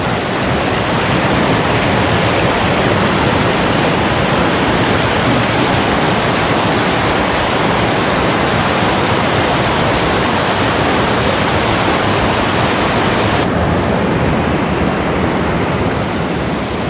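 A small creek rushes over and around rocks, a loud, constant broadband wash of flowing water heard up close and unbroken throughout.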